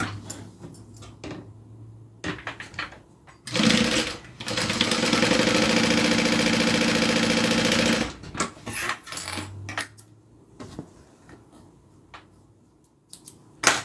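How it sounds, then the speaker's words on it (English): A sewing machine runs one steady burst of stitching for about four seconds while a zippered bag is being made, with quieter clicks and handling noises before and after. "And then I'm just going to do a row of stitching."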